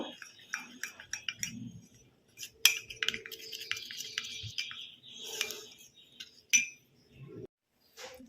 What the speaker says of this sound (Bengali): দিয়ে দিলাম ময়দা টা ভালো করে ফেটিয়ে নেব